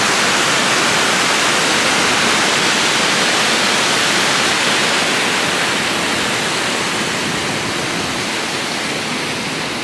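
The waterfall at Glen Nevis near Fort William gives a steady, loud, broadband roar of rushing water, close by and unbroken for the full ten seconds, with no voices.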